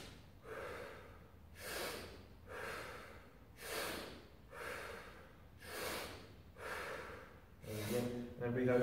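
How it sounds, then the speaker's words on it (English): A person does a breathing exercise, pulling in seven sharp, forceful breaths through the nose at an even pace, each followed by a softer, relaxed exhale. The sound is close and alone, with a short voiced sound at the end. "You're going to try to fill your stomach when you breathe, so you're going to breathe in sharp as well."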